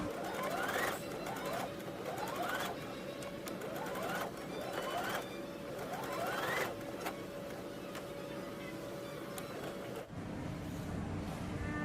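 A sewing machine runs steadily as it stitches around the fabric of a small coin purse, its motor hum continuous and close, with short pauses and stitch bursts before the motor stops near the end.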